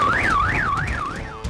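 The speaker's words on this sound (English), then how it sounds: "Engines so loud they set off every car alarm in their path." A car alarm going off close by, its loud electronic tone sweeping up and down in a steady repeating wail, set off by thundering motorcycle engines; no one speaks.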